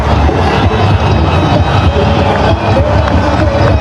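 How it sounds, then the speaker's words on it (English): Cricket stadium crowd in Sri Lanka versus Pakistan T20 roars after a boundary, a dense, loud, sustained wall of cheering and babble filling the whole stretch. "The roar in the crowd tell you all about that one."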